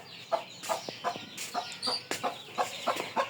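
Chickens clucking nearby in a rural house, a series of short, separate clucks in an uneven rhythm, close and clear with no speech.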